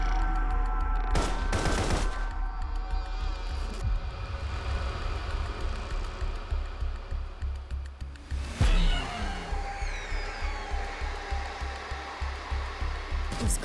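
Rapid automatic gunfire from the game Path To Nowhere, a steady stream of fast repeated shots with a louder blast partway through, mixed with humming game effects and no voices.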